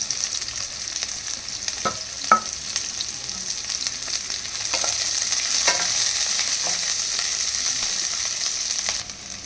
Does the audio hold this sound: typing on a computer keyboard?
no